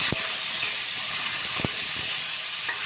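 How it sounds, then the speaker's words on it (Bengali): Prawns frying in hot oil left over from frying paneer, giving a continuous close hiss of sizzling with a few sharp ticks and pops, no voices. "তেলের মধ্যে চিংড়ি মাছটা দিয়ে দিলাম"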